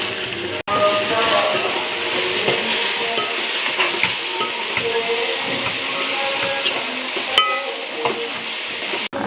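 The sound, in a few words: onions with chillies and mint frying in a pan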